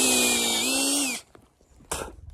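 A power drill run in reverse at a maple sugaring site, with a steady whining motor drone for about a second before it cuts off, followed by faint clunks and a brief rustle.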